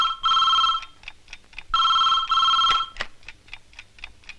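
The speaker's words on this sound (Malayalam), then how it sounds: "ഇതേതാ ഇപ്പൊ ഒരു ഫോൺ?" An old-style telephone bell rings in two long trilling bursts separated by a short gap, followed by fainter ticking and clicks; no one speaks over it.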